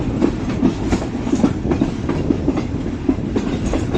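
Fareed Express passenger train rolling along the ML1 main line, heard from on board as a steady rumble with repeated clickety-clack of wheels over rail joints, no voices.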